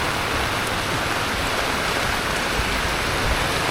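Heavy downpour in Laos, a dense, steady roar of rain, loud and unbroken with no voices.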